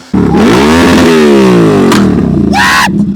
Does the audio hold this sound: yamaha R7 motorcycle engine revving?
yes